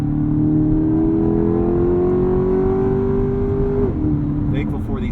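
A Chevrolet Corvette E-Ray supercar accelerates hard in track drive mode, its engine note climbing steadily for about four seconds before a quick shift drops the pitch, loud and close inside the cabin.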